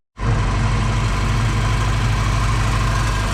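A Jeep engine catches after cranking and settles into a steady, loud, close idle, a constant low rumble with no voices.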